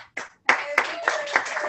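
Several people clap together at a team meeting, a short burst of hand claps followed by a steadier round of applause with voices and a whistle-like tone mixed in.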